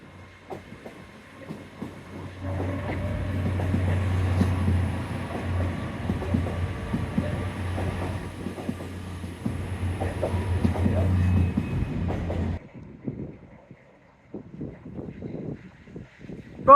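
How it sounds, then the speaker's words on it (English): A train pulls away with a deep, steady diesel rumble and rhythmic clatter for several seconds, then cuts off to quieter outdoor noise and scattered sounds. "Be rude not to watch this train depart though"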